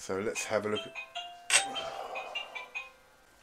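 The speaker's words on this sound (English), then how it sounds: "That was the doorbell and more deliveries." A doorbell chimes indoors with ringing tones that sustain and fade over a few seconds, overlapping someone speaking briefly at the start.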